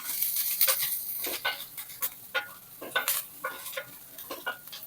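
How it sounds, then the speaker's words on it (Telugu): Onions and drumstick pieces fry in a pan for a drumstick curry, with a steady sizzle broken by regular, fairly close scraping stirs roughly every half second. "వేసుకొని ఇలాగా వేయించుకోవాలి. మాడిపోకుండా చూసుకోండి."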